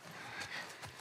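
A horse in The Last of Us Part 1, a short close burst of breathy snorting and whinnying over a steady background rush, with no talk.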